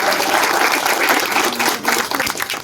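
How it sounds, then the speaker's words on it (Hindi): Loud, sustained applause from a crowd at a political rally in Dhandera Town on Laksar Road, Roorkee, a steady dense wash of clapping filling the whole moment with no voices over it. "जोरदार ताली के साथ"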